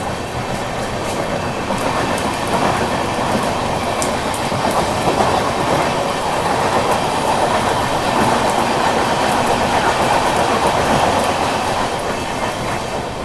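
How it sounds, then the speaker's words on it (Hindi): A passenger train on the Bikaner–Mumbai Ranakpur Express runs through the night after leaving Ahmedabad Junction, heard from inside as a loud, steady roar with rhythmic clickety-clack of the wheels and no talking. "अहमदाबाद जंक्शन अपनी ट्रेन निकल गई है"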